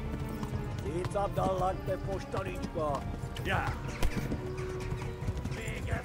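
A horse in the medieval game Kingdom Come: Deliverance gallops with steady hoofbeats and gives several whinnies and neighs, while game music plays and someone briefly speaks over it.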